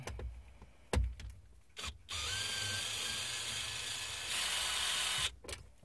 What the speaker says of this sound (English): I'll grab the power screwdriver